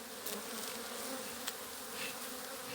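Dense, steady buzzing of many honeybees up close on a hive frame in November, a continuous hum with no talking.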